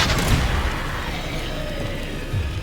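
Confringo blasting spell detonating in Hogwarts Legacy, a loud, booming burst that hits at once and then settles into a dense, rumbling roar of combat effects lasting a few seconds.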